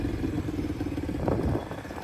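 Motorcycle engine accelerating on a riding exam course in Adana, a steady, fairly close rumbling drone that swells briefly as it revs.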